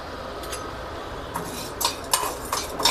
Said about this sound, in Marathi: तर सगळ्यात पहिला आपण काय करूयात, हरभऱ्याची डाळ भाजून घेऊयात.